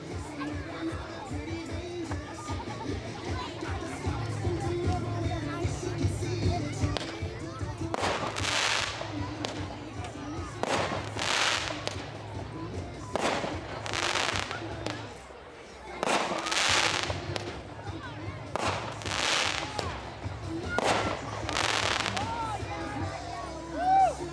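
A six-shot fireworks cake called Nanotechnology fires outdoors at a demo, its sharp booming shots spaced a second or two apart over steady crowd chatter and light talk.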